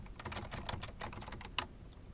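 Rapid, uneven clicking of keys on a computer keyboard, close and fairly quiet, with one sharper keystroke near the end.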